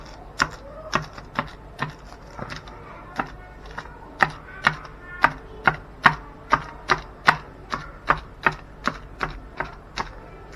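Holes being poked into the wrapping of homemade tempeh, made with the vinegar method: a steady series of about two dozen sharp, close tapping pricks at a roughly even rhythm, with no talking.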